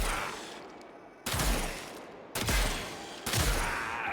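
Four heavy shots from the Panthera Prime in Warframe, each a sharp loud report with a decaying tail, spaced about a second apart with no talking.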